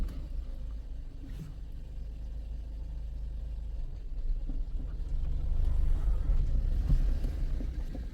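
A car with a semi-automatic gearbox and a jerking, shaking fault rumbles in reverse, a low steady engine drone that swells louder partway through, with some wind buffeting the microphone.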